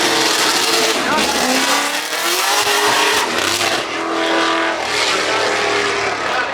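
A McLaren race car engine screams loudly at the Goodwood Festival of Speed, its pitch sweeping as it passes close by, with a voice talking over the roar.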